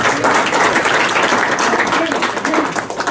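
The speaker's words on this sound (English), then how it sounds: "let's give Mike a round of applause." A small group applauds a presenter in a meeting room, a loud, steady wash of clapping lasting a few seconds with voices mingled in.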